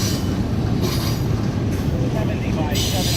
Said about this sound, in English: this train going down the main